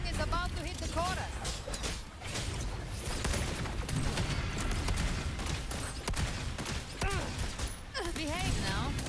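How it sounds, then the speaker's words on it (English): Rapid gunfire and thudding mortar blasts from combat in the video game Wuthering Waves, dense and continuous, layered under loud music and a voice talking throughout. "More bullets. Another mortar thrown at us."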